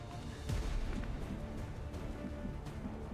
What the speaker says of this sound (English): Andres finds a flanking position and takes the shot, but he barely grazes the officer